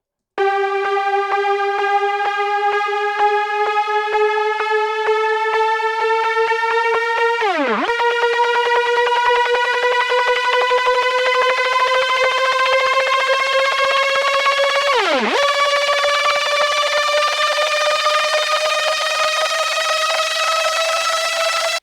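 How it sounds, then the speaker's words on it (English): A synth build riser: one melodic pluck repeats ever faster and blurs into a climbing, buzzy tone that resets lower twice, loud and alone throughout. "this kind of build riser, where it's the same melody pluck, but it sort of gets faster and faster and faster as it goes on"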